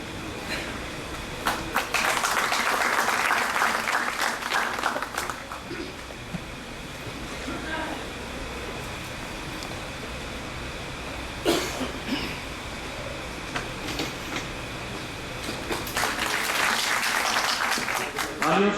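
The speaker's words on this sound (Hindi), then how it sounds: "तालियों से स्वागत करें।" An audience at a public discussion forum applauds to welcome a speaker to the stage. Scattered clapping swells and fades twice over a steady room hum, with a few coughs and occasional sharp knocks in between.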